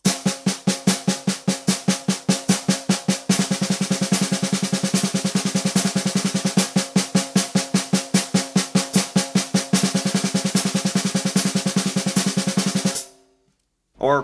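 Close snare drum double-stroke roll exercise, a long run of rapid paired strokes that shifts into a denser, faster stretch partway through, holding a steady level before cutting off to silence with a final stroke.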